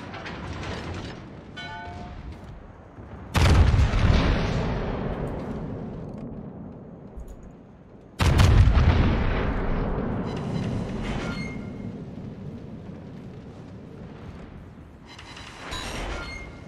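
The German battleship Großer Kurfürst fires its main guns in World of Warships: two heavy, booming salvos with long rumbling tails, then a lighter burst near the end, with no talking.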